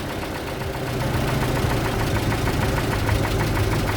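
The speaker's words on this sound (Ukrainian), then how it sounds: "Тепер холостим ходом додаємо, винтом холостим ходом додаємо обороти." A car engine running on a second-generation LPG gas system idles steadily with a rhythmic knocking chug, loud and close. The revs rise slightly after the first second.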